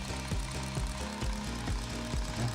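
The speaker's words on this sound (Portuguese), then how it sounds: "Então a gente tem aqui o motor de Stirling funcionando" A small Stirling engine runs steadily, giving a regular mechanical knocking pulse roughly three to four beats a second over a faint whir, close and alone.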